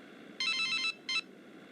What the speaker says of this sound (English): My cell phone is ringing.